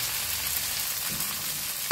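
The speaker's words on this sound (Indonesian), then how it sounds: "habis itu kita goreng ikan." Fish frying in hot oil in a home kitchen, a steady close crackling sizzle with a brief stir sound partway, no talk over it.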